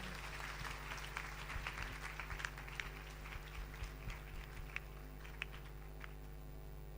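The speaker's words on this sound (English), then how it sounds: "Let's give them a round of applause" Applause from an audience at a spiritual satsang, following bhajan and chanting, heard as a steady faint patter of clapping over a low hum, with occasional sharper claps.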